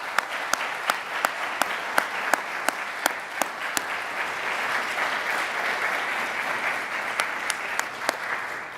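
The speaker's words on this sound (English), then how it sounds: "let's offer a round of applause to our new inductees" Applause for new inductees at a music honor society induction ceremony, a steady roomful of clapping punctuated by one person's sharp, regular claps standing out close by.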